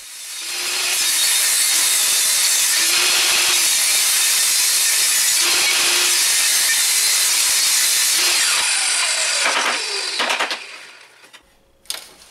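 Wooden stretcher bar pieces being cut with a saw, a loud sustained rasping cut with a few rhythmic strokes, ending in rattling clatter and a sharp knock as the piece comes free.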